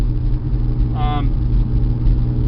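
Exhaust rumble from a car fitted with an aftermarket Flowmaster muffler, a steady low drone close by, with a brief higher whine rising over it midway.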